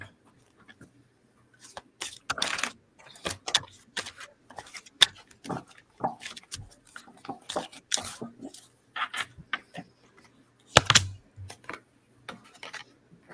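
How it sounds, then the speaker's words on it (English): Playing cards shuffled by hand at a table, a series of short crisp riffling bursts and soft slaps in irregular clusters, close and fairly quiet, with brief pauses between shuffles. "Shuffle you up some cards here."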